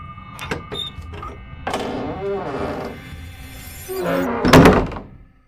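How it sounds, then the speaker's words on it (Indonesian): A door in a supposedly haunted bungalow swinging open and shut on its own, with a couple of soft knocks early on, a creaking stretch in the middle and a heavier thunk as it closes near the end. "Tiba-tiba pintu itu terbuka dan tertutup dengan sendirinya."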